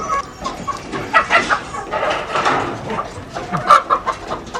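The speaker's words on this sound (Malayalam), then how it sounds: "നമ്മുടെ കുറച്ച് കോഴികളുണ്ട് ഇവിടെ മേളിൽ നിൽക്കുന്നുണ്ട്" Hens being fed in a home backyard cluck and chatter in short, uneven bursts, close and moderately loud against light background noise.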